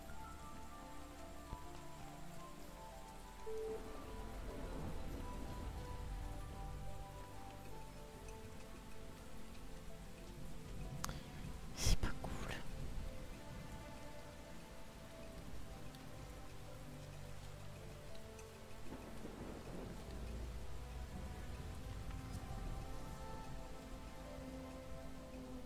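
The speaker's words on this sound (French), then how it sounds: "Faut que j'arrête la pluie là pour passer." Steady rain falling in the video game XING: The Land Beyond, a continuous soft patter with rumbling thunder swelling in waves and a sharp crack near the middle, fairly quiet overall.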